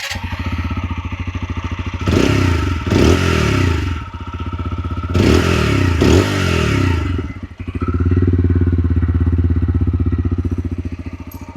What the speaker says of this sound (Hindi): अभी मैं इस मोटरसाइकिल को एक बार ऑन करके इसका एग्जॉस्ट नोट सुना दूं।